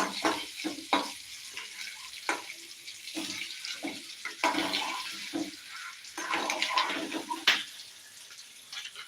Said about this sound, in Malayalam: നമ്മളതിനകത്ത് മഞ്ഞൾപ്പൊടി ഇട്ട് കൊടുത്ത് അതിനകത്ത് എണ്ണ ഒഴിച്ചിട്ട് നമ്മളൊന്ന് മുട്ട ഒന്ന് വാട്ടിയെടുക്കുകയാണ്